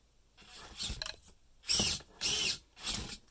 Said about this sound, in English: the 500 RPM motor helps you power through some of this stuff.